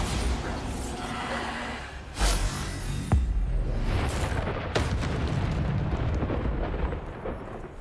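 Repeated Bombarda spell explosions in the Hogwarts Legacy video game, a continuous loud rumbling barrage punctuated by several sharp booming blasts and crackling bursts over eight seconds.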